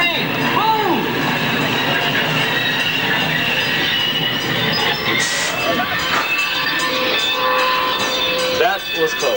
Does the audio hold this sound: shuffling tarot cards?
no